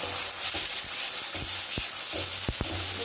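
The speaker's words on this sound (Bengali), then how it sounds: "মশলাটা ভালো করে কষতে হবে।" Ground spice paste with white and black mustard seed sizzles steadily in hot mustard oil for a katla fish curry, a continuous frying hiss punctuated by several sharp clicks and stirring knocks, close and alone.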